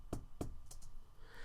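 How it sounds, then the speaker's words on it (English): Knuckles rapping on a door in the visual novel Katawa Shoujo: two firm, close knocks followed by two softer, quicker taps, then near quiet. "I wrap my knuckles on the door in front of me."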